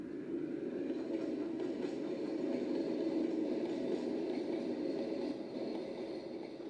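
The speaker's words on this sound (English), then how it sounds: "He was coupled to the train, and this time he really pulled it." Thomas the Tank Engine, a small tank locomotive, pulls a rake of coupled coaches with a steady mid-pitched rolling rumble and faint rhythmic wheel clatter, moderately quiet and uninterrupted.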